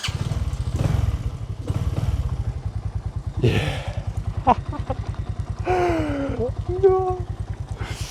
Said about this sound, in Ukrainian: Зараз спробую запустити з електростартера.